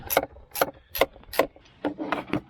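Quick repeated ratcheting clicks from a hand tool tightening the air intake tube clamp on a 2018 GMC Terrain, close up in a steady rhythm of about seven pulls with no speech.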